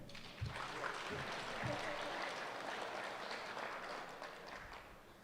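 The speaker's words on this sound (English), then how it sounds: "You can clap for her." Audience applause at a presidential forum on the Navajo economy, soft, continuous clapping heard from a distance for several seconds, with faint voices mixed in.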